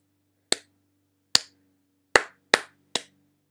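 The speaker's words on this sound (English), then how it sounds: "I'll go ahead and clap it again." Single pair of hands claps out a rhythm of five crisp, close claps in near silence, the first two spaced apart and the last three coming quicker, with a faint steady hum behind.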